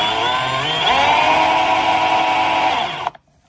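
The motor of a Milwaukee M18 FUEL brushless cordless fish tape reels out its spool under a variable trigger, giving a loud steady electric whine that rises in pitch as it speeds up, then stops abruptly with a brief click.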